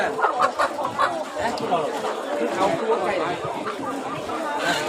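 Chickens clucking amid busy chatter at a Thai poultry market selling ducks and chickens, a dense crowded din of fowl sounds mixed with steady nearby talk.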